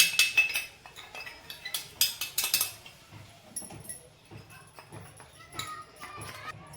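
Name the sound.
spoon adding and mixing milk powder in a pan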